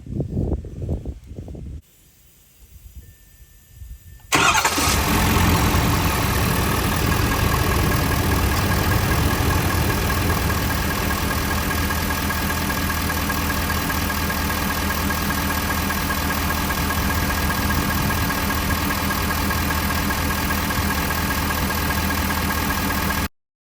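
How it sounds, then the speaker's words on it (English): A 2023-2025 Ford F250 with the 6.7 diesel and a Banks intake cranks over and fires, settling into a steady, loud diesel idle with a constant low rumble and whine that runs on for about twenty seconds. "I'm gonna actually start the vehicle so you guys can possibly hear how it sounds"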